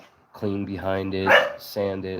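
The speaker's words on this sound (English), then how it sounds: "That's my dog, guys, barking." A dog barks a few times close by, short bright barks overlapping a voice as he talks over them.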